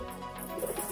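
Pigeons coo softly and steadily in a loft of Gilbertson foundation birds, low murmuring calls overlapping in a continuous close chorus with no talk.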